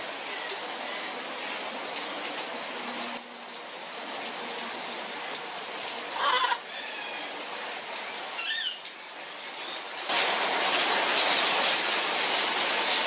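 A spray bottle mists room-temperature water onto a pet macaw in a steady hissing spray that runs almost continuously, with brief pauses and some faint bird chirps, close up and without talking.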